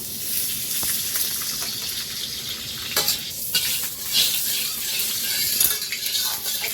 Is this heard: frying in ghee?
yes